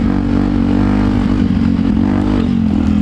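Motorbike engine accelerating hard in second gear, a loud, steady, close-up revving drone held for about three seconds.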